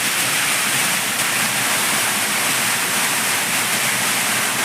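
Rainwater rushes under a bridge on National Highway 66 at Randathani in Malappuram, Kerala, a loud unbroken roar of flowing water like a small waterfall, steady and close with no voices.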